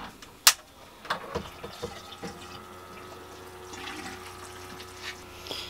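Hydroponic nutrient water draining through a battery-powered siphon into a bucket, a steady faint trickle and splash following a sharp click at the start and a few drips.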